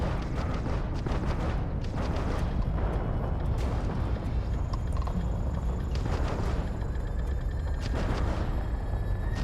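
Spaceship combat in the video game Starfield, with a steady, dense roar of weapons fire, mechanical clatter and explosions that swells and ebbs throughout, loud and continuous with no pause.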